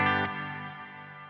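A single bright tone rings out through a Meris LVX hall reverb setting and decays slowly with a long, spacious reverberant tail, fading gradually toward silence.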